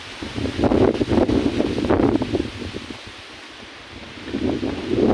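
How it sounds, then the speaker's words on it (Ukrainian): Gusty wind buffets the microphone outdoors, rising and falling in rough surges with a rustling roar. "на вулиці тепло і дуже вітряно"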